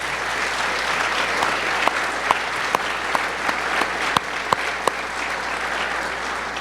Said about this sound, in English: can we just give them all just a big round of applause?